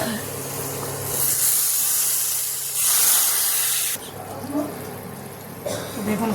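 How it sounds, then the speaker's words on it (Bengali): Kashmiri chilli powder hits hot mustard oil with fried garlic and green chillies, producing loud hissing, spray-like bursts that swell and fade while someone speaks over the cooking. "দিয়ে দিলাম একটু কাশ্মীরি লঙ্কার গুঁড়ো"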